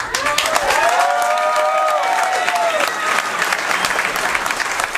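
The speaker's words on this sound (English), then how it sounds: "Another round of applause for Allie." A stand-up comedy audience applauds and cheers a comedian at the end of her set: loud, dense, continuous clapping with a few whoops and whistles rising above it, sustained throughout.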